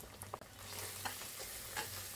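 Ground turmeric and chili powder with salt fry in oil in a pan while being stirred, a faint, even sizzle broken by soft scraping strokes of a spoon.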